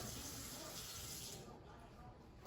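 A spoon scoops water into a bowl while edible slime is being mixed, giving a steady, faint splashing and trickling wash that eases off toward the end.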